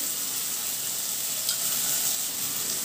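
Soaked tamarind juice is poured into a hot pan of okra stew, producing a steady, hissing sizzle at moderate volume that barely changes over the few seconds, with no one talking.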